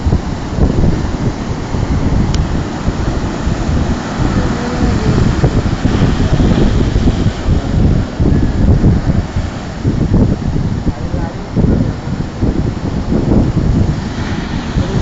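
Strong wind sweeps across a rough, stormy seashore, a loud continuous roar of gusts mixed with crashing surf that swells and eases without a break.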